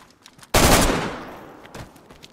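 One loud burst of gunfire in DayZ on PS5 erupts and decays over about a second, with fainter shots popping faintly around it.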